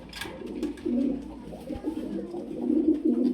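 A pair of pet pigeons coos softly nearby in a steady, murmuring run of low notes, and a faint voice comes in briefly near the start.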